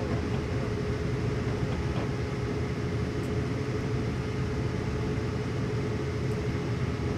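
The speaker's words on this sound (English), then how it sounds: "Got another train coming this way, too." A BNSF ES44 diesel freight train on Marias Pass in Train Simulator 2016 rumbles with a steady, continuous low drone and a faint high tone, holding even without any voices.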